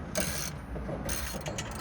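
A bolt is undone and pulled free, heard as quiet, close ratcheting clicks and metallic scraping over a couple of seconds.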